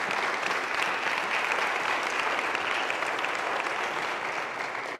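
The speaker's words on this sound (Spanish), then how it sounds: "De un aplauso de gozo, si usted lo cree" A church congregation bursts into applause, dense even clapping from many hands held for about five seconds before cutting off.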